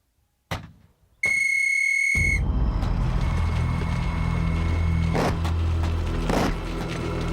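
Sharp whistles blow as the signal for a World War I infantry attack on the Somme front. A single thump comes first, then a shrill sustained whistle blast, followed by a loud continuous roar of battle noise.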